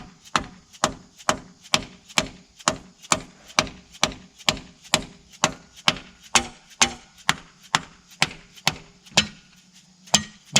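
A hammer strikes seized engine parts of a 1969 Buick Riviera over and over in a steady rhythm, about twenty loud, sharp metallic blows with short ringing decay between them, close by.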